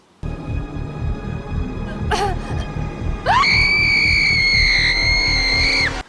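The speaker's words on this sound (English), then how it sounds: "She went from completely ignorant to screaming panic in record time there." A woman in the horror film Wishmaster 3 lets out a loud, sustained panicked scream lasting about three seconds, rising sharply and holding steady over a dense, pulsing film score, with a brief shriek-like cry just before it.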